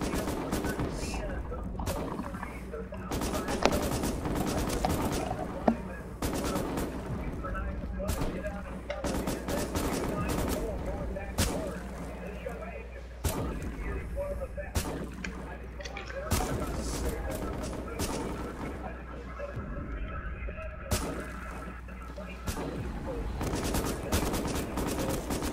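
Gunfire in the SMOD Outbreak shooter game, a dense barrage of shots with rapid bursts and a few heavier thuds over a constant low rumble, mixed with game noise and a voice talking.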